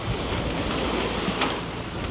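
Confused ocean waves wash and slap around a sailboat motoring under engine into a headwind, a loud, dense rushing roar mixed with wind buffeting on the microphone.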